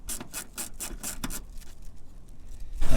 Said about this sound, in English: I can unbolt the old blower motor from the metal frame and pull it out